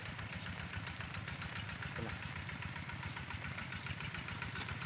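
A small motor, like a water pump engine, runs steadily with a continuous chugging drone and no talking.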